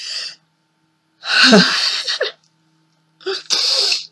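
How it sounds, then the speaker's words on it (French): A single loud, close sneeze with a sharp breathy burst, preceded by a brief intake of breath and followed by another forceful exhale or sniff. "Désolée, j'ai envie d'éternuer."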